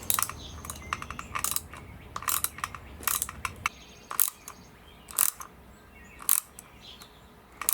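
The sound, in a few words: ratcheting tool tightening carburetor on Honda Shadow 1100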